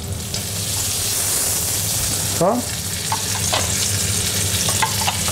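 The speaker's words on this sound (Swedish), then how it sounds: "Steker i lagom temperatur där." Food sizzles steadily in a frying pan at moderate heat, with a dense crackling hiss throughout and occasional utensil taps and stirring. Someone speaks briefly once.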